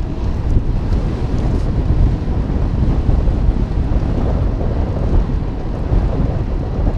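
Strong wind roars and buffets the microphone during a bicycle commute on a paved road, a loud continuous rushing that fills the whole stretch with no voices.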